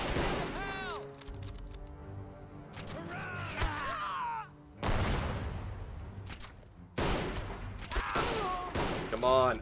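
Bursts of gunfire and explosive crashes from the Men of War video game arrive in uneven clusters separated by brief lulls, with distorted voices and other battle sounds mixed throughout.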